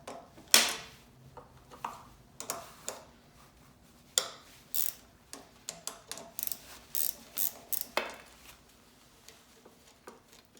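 A ratchet wrench clicking while parts are removed from a Honda GX200 clone small engine, with short bursts of ratcheting and occasional metallic clanks in an irregular rhythm, close and fairly quiet, with no talking.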